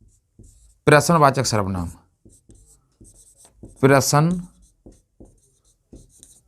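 Pen or marker strokes writing a heading for a Hindi grammar lesson, faint scratchy taps between two spoken phrases from a nearby voice.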